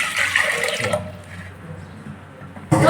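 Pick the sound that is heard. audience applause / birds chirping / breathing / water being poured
water being poured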